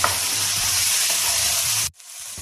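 Chicken stew with pieces of potato is stirred in a hot pan, giving a dense, close sizzle and hiss that stops abruptly near the end, then fades back in more quietly.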